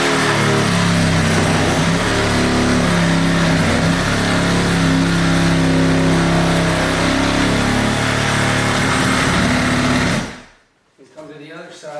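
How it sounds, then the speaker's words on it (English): A reciprocating saw cuts through 2x4 framing up to the OSB sheathing behind it to open a wall for a new construction window. The motor buzzes loud and steady for about ten seconds, then cuts off abruptly. "Finish it off with the Sawzall up to the OSB on the back."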